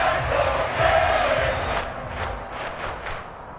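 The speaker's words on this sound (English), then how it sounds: "The crowd getting into it as we come up on a big third down." Football stadium crowd cheering and roaring ahead of a big third down, a dense, loud wash of many voices that swells early and then eases, with scattered shouts rising above it.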